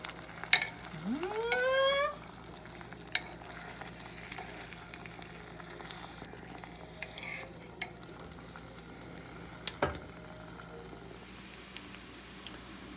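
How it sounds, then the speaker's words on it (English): Salmon croquettes frying in olive oil, a soft steady sizzle with occasional crackles and a couple of utensil clinks and scrapes near the start, close by. "I have my salmon croquettes cooking here on the stove. I'm pan frying them in some olive oil."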